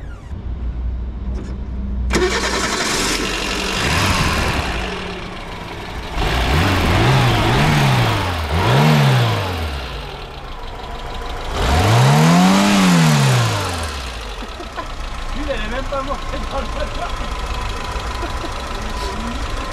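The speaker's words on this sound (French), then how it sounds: "Je te démarre. Vas-y, va démarrer. Fais un rupteur." A Citroën C15 engine cranks and catches after a quiet start, then idles roughly with three loud rising-and-falling revs toward the limiter, close by, before settling back to a steady idle.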